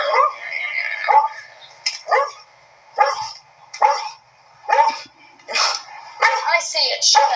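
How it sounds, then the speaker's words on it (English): A dog barks repeatedly in short, evenly spaced bursts close to the microphone, loud and clear against quiet gaps. "It's just a dog."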